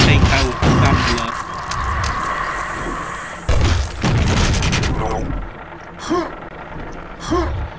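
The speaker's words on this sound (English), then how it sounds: "3 rockets to take out the Gambler" Rocket launcher blasts in the classic Quake first-person shooter, several loud booming explosions in quick succession mixed with game effects and grunts, while someone talks over the action.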